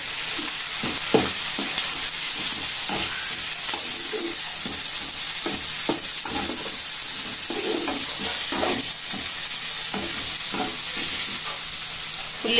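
Onions and tomatoes frying in a tempering for parched-grain uggani, with a steady loud sizzle and repeated scrapes of a spoon stirring through the pan, no talking.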